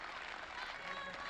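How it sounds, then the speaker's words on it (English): Home crowd at a 1996 Al Ahram International squash match between Egypt's Ahmed Barada and Australian Rodney Eyles, a steady wash of cheering and applause, loud and continuous, with a commentator's voice running over it. "The home supporters are really getting behind Ahmed and really making a lot of noise"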